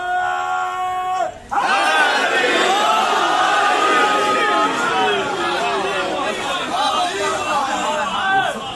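A large crowd at a Shia religious gathering for Shab-e-Zarbat bursts into a loud, sustained chant of a religious slogan, many voices roaring together in response to a call, filling the space for several seconds.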